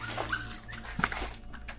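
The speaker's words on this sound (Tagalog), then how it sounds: "Sumama yung mga tuta doon." Puppies in a cemetery in Concepcion, Tarlac whimper and yip in short, high, thin cries, a few brief whines scattered over a steady background hum, fairly close and moderately loud.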